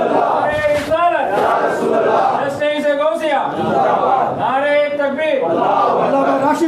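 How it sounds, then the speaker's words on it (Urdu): A large gathering at a religious celebration in Salem shouts the Nara-e-Takbir response in loud, rhythmic chanted bursts, voices rising together several times in close succession. "ایک مرتبہ تھوڑا بلند آواز سے نعرے لگا دیے، نعرے تکبیر"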